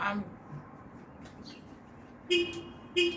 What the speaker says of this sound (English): And the horn honking, that's definitely indication.